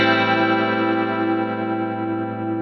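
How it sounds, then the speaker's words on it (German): An electric guitar recorded in Logic Pro X sustains a chord through an effects unit, the tone ringing with a steady shimmering modulation and slowly fading over a few seconds, alone without talk. "ich könnte jetzt, wenn ich wollte, einfach ein Tremolo noch dazu schalten."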